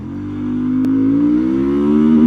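A VOGE CU250 motorcycle accelerates up close, its engine note rising steadily in pitch and loudness over a couple of seconds with a smooth, humming drone, no talk.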